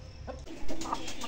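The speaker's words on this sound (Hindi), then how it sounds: "ये वाइट भी बाहर आ गई है मुर्गी, और शेरू भी बाहर आ गया।" Chickens cluck softly in a farmyard, a few short, moderately close calls over light background noise.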